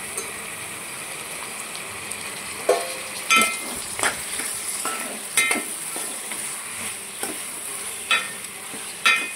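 Mutton pieces frying and being stirred in a pan for curry, with a steady sizzle and repeated scraping strokes of the spoon every second or two, close up and without talk.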